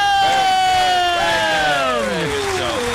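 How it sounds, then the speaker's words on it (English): A radio show studio audience cheers and whoops loudly for a guest, sustained excited shouting filling the room throughout. "The crowd are very excited."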